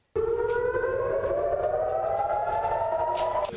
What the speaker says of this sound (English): Our team on the ground in Israel heard those sirens and immediately moved for safety